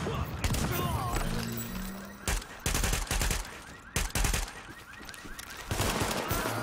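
Repeated gunfire bursts from Tom Clancy's The Division, loud sharp volleys and rapid machine-gun-like bursts in several clusters, with voices talking between and over them.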